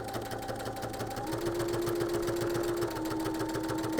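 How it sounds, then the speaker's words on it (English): A sewing machine stitches fabric held together with Clover Wonder Clips, giving a fast, steady mechanical whir with a rapid needle rhythm, close and fairly quiet. "I'll show you how easily it's going to glide through the sewing machine."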